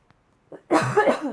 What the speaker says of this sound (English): it made me have a little bit of a cough